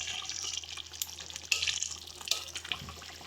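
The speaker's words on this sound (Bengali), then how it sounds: "চলো এবার এটাকে একদম ভালো করে কষিয়ে নেব" Chicken for Hyderabadi green chicken sautés in a pan with a soft, steady sizzle and occasional scraping stir strokes, faint and close.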